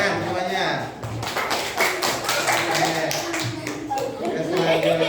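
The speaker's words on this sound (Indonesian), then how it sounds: "Tepuk tangan semuanya." A class of students clapping together in a classroom, dense rapid claps filling the space, with voices mixed in underneath.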